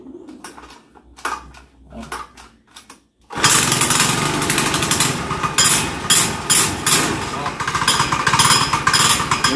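A homemade 125cc quad bike engine starts up abruptly after a quieter stretch with faint chatter, then runs loud and steady close by with a rough, uneven idle.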